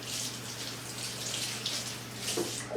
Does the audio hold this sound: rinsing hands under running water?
yes